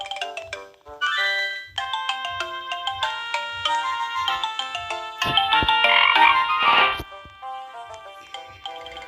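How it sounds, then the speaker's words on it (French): A frog croaks in a Roblox camping game, coming through as bright, tonal, almost musical chirps. They repeat in quick bursts and swell into a denser, louder stretch midway, with no talking. "on peut jouer avec une grenouille."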